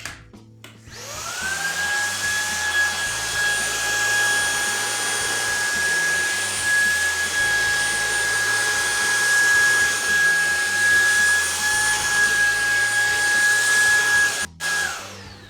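A Shark IZ251UKT cordless vacuum cleaner fitted with a duster attachment runs on its low setting, a steady close whine with a sustained tone that holds for about fourteen seconds before cutting out briefly near the end.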